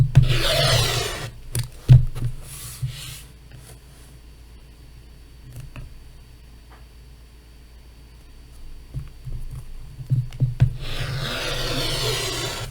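Fabric strips for a quilt are cut with scraping, rubbing strokes at the start and end, separated by a quieter stretch with scattered light handling noises.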